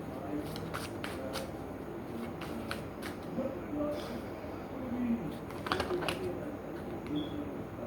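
Tarot cards shuffled in repeated short riffling bursts, close and fairly quiet, with a voice talking over parts of it.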